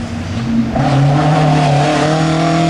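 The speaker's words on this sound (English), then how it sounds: "Now here's the Chevette. Are we going to see one wheel in the air?" A Vauxhall Chevette rally car races along a stage, its engine loud and close with a sustained rising drone as it shifts up and accelerates hard.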